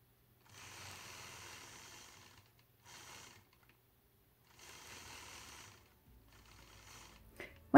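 A domestic sewing machine quilting straight stitch lines across a triangle of a quilt block, running in three distinct bursts with short pauses between them, fairly quiet and close, with no talking.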